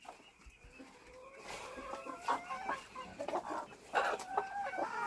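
Hens and a rooster in a Ukrainian backyard poultry pen cluck in repeated short bursts, moderately close and growing busier toward the end, with faint sparse background noise.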